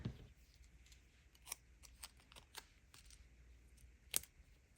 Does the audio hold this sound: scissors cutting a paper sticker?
yes